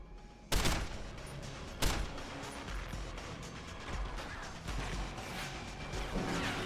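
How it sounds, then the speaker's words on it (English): Shotgun blasts in Deus Ex: Human Revolution, two sharp booming shots about a second apart during a firefight, followed by a steady layer of gunfire and crashing impacts. "Shotgun."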